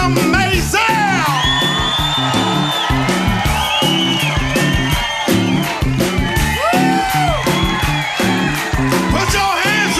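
A studio audience cheers, whoops and yells loudly and continuously as a guest named Kim Maisel is welcomed on stage, a dense crowd roar with bright shouts rising above it throughout.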